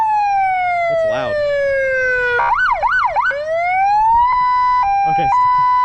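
A loud electronic siren cycling through wails and rapid yelp patterns, with steady tones and quick warbles switching back and forth close by.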